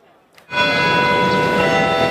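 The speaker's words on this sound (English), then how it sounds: "The Manila Cathedral's church bells ring for the eternal repose of the late Pope Francis" Manila Cathedral church bells ring out loudly after a brief quiet start, their bright overlapping tones sustained and reverberant throughout, tolling for the late Pope Francis.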